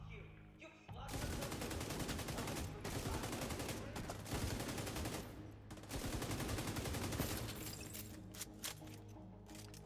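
Sustained light machine gun fire in a video game: long rapid bursts of close, loud gunshots that run almost continuously, with a few short pauses between volleys.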